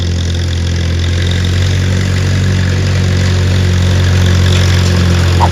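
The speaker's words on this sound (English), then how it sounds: "Tractor's running like a dream." Tractor engine idling steadily at close range during alfalfa hay making, a continuous low rumble with a constant tone, no talk.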